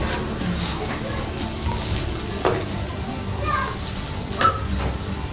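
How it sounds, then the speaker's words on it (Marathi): Onion fries in a pan during an Agri community home-cooking session in Kopar village, Mumbai, sizzling steadily with occasional stirring clinks and scrapes, while people talk over it. "आता कांदा थोडा भाजून झालेला आहे."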